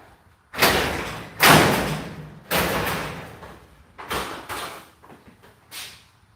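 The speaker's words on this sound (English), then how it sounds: "Get up on my ladder, grab this track, and pull it back." A bent track on a crooked garage door is yanked back into place by hand from a ladder, giving a series of loud metallic thumps and rattling bangs, close and uneven, with no talking.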